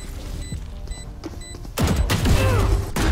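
Valorant sentinel turret opening fire: after a quieter stretch with small beeps, a loud burst of rapid gunfire and impacts erupts and carries on to the end, close and dense.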